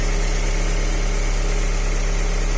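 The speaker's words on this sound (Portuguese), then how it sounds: "Ligando o carro frio, aparentemente." A cold Fiat Uno Evo Fire 1.4 engine idles steadily up close, a loud, even, rumbling drone with a constant vibration and no change in pitch or level.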